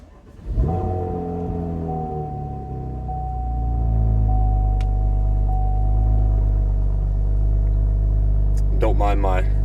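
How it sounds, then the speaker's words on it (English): A Chevrolet Camaro RS V6 1LE fires up from cold: a brief starter crank, then the engine catches into a loud, steady, deep idle rumble that swells and holds, with a short burst of speech near the end. "let's give it a cold start while"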